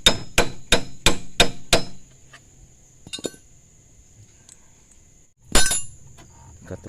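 Six sharp metallic hammer blows in quick steady rhythm, striking a screwdriver to drive out the rod of a Honda Beat/Vario scooter shock absorber, then a few softer clinks and one final loud strike.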